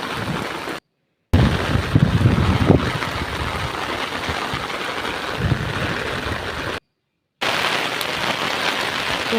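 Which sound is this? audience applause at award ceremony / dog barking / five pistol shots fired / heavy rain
heavy rain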